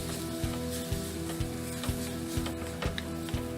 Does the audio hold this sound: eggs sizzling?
yes